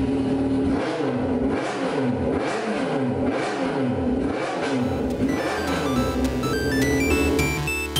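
An XJ motorcycle engine starts and revs in repeated rising surges, loud and close, before settling into a steadier running note with a thin whine over it.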